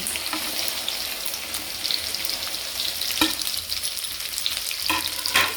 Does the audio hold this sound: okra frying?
yes